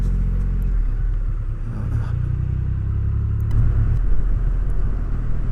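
A Triumph Rocket 3R motorbike rides narrow, bumpy back lanes with a steady, deep engine rumble close by and a slight swell in throttle toward the end.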